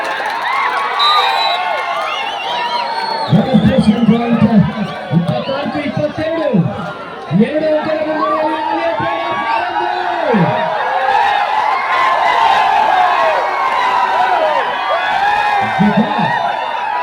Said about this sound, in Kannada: ಹರ್ಷೋದ್ಗಾರ